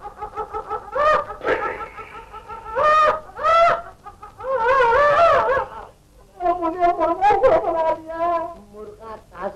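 A rooster clucks in a Hindi film scene, a series of close, loud, squawking clucks in irregular bursts with short pauses between them.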